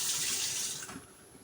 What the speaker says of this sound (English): you use water from the faucet